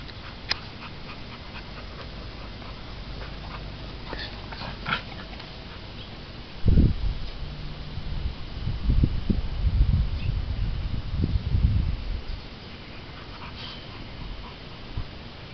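A black pit bull pants and whimpers close by, with bursts of heavy breathing and sniffing in the middle stretch, quieter before and after.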